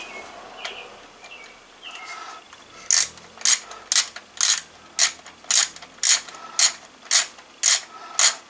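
A ratchet tightens the crankshaft position sensor screw on a 2014 Kia Sorento 3.3 V6, about a dozen crisp evenly spaced clicks close up, preceded by quieter handling noises and faint birdsong in the background.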